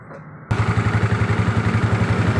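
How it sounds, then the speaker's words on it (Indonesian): A Yamaha Mio scooter engine starts and settles into a steady idle, with a rhythmic clunking knock from a faulty CVT pulsing evenly throughout, loud and close with no talk. "kita akan coba nyalakan mesin motornya terlebih dahulu."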